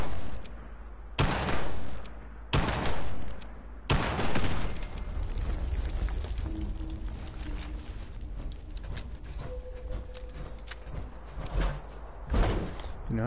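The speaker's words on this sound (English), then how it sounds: "we don't want that machine gun to F me up" Bursts of automatic gunfire from a machine gun in the game Fallout 76, a few loud heavy volleys separated by gaps, with quieter rumbling combat noise between them and no talk.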